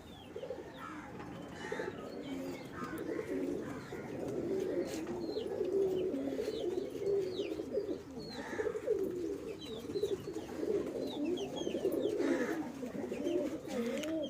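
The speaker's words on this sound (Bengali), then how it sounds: "আমার কাছে দেশি বিদেশি সব ধরনের কবুতর আছে" Domestic and foreign pigeons in a home loft coo continuously, several birds overlapping in soft rolling calls with occasional chirps and wing or movement noises, moderately close, with no voice.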